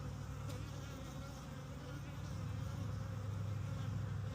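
Honeybees buzzing steadily around a defensive hive during an apiary inspection, a dense continuous drone that swells slightly louder midway, close and without talk.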